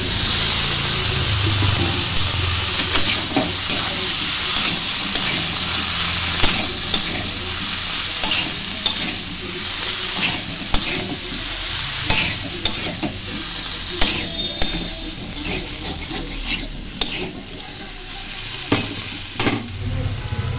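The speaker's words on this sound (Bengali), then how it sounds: "মশলাটা আমার কষানো হয়ে গেছে, দিয়ে দিচ্ছি সেদ্ধ করা আলু" Boiled potatoes stirred into fried spice masala for a mustard potato curry, a loud continuous sizzle with frequent clinking and scraping of the spatula against the pan throughout.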